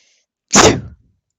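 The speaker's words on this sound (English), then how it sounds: "Sorry, I had to sneeze." A single close, loud human sneeze, one sharp burst that trails off quickly into silence.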